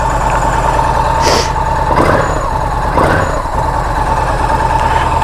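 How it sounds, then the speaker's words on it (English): A cruiser motorcycle engine idles steadily and loudly up close, a continuous low throbbing rumble with a few brief higher swells over about five seconds. "Good cruiser sound"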